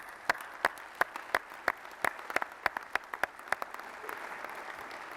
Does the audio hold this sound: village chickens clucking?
no